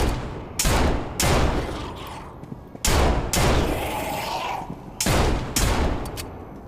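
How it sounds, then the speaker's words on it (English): A gun in the Zombie Army game is fired until empty: several loud, close bursts of automatic fire come in separate runs with short pauses between them, and no voices are heard. "you can pick up your gun and fire until empty"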